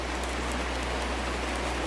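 Steady rain falls in an even, dense hiss with faint droplet patter, constant and close with no breaks.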